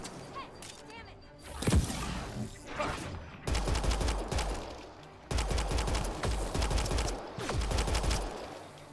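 Bursts of automatic gunfire and single shots in the shooter game Mass Effect Andromeda, loud and close, rattling in rapid volleys with short pauses, while a voice shouts between the bursts.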